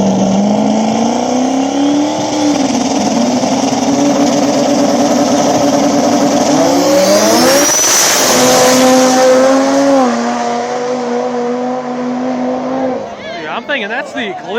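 Small-tire race cars, an Eclipse among them, roar past at a back-of-the-track Ohio race, engines loud and sustained with rising and falling revs as the cars pass, while a commentator talks over the noise.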